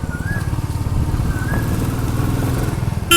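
A Royal Enfield motorcycle riding through city streets in Bangalore, its loud, close engine thumping in a steady rhythmic beat throughout, with a short burst of other noise at the very end.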